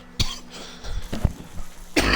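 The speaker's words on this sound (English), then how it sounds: "I've got this cough and it's not going away" Several sharp coughs from one person, close and fairly loud, spread across a couple of seconds with short gaps, with a faint steady hum underneath.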